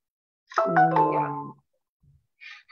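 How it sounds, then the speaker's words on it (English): A short electronic notification chime that serves as a reminder to check the mailbox, a bright multi-tone melodic phrase sounding clearly in quiet, followed by a faint softer blip. "My little notification to go to the mailbox."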